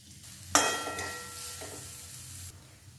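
Grated fresh coconut being stirred into a hot pan, starting with a sharp scrape and then settling into a steady sizzle with soft stirring sounds for a couple of seconds before it fades down.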